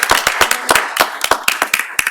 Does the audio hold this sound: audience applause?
yes